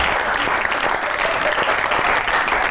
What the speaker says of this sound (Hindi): अच्छा आ यस ताली कहाँ मारनी थी?